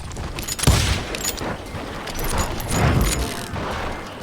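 Gunfire from the Wild West video game Call of Juarez Gunslinger: a loud burst of shots near the start, then a rolling, noisy clatter of further firing and booms throughout, with no speech.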